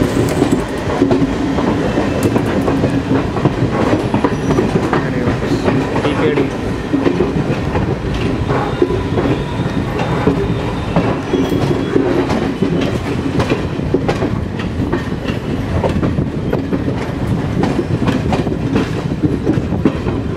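An Indian Railway train leaving Vijaywada station, loud close rumble with rhythmic clickety-clack of wheels over rail joints and occasional squeal, continuous throughout with faint voices underneath.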